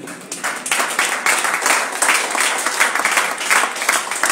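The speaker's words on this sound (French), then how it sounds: "Acclamez pour lui." A church congregation breaks into loud, sustained applause during a sermon, with dense, steady clapping from many hands close by.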